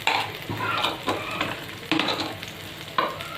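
Oil poured into a pan beside cooking masala for paneer bhurji sizzles steadily, broken by scraping stirs and light utensil knocks against the pan, close by and without talk.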